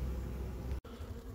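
Honey bees hum densely inside a hive, a close, steady, quiet drone with one brief dropout midway.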